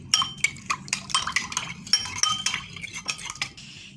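Spices including chaat masala are stirred into a drink, a metal spoon clinking and scraping against the inside of a glass or bowl in quick, irregular strokes, close and with no talk.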